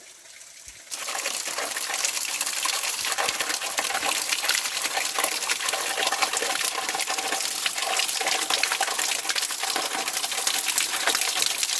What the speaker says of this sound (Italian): Arrivati a questo punto troviamo la Fontanea, in pratica la fontana.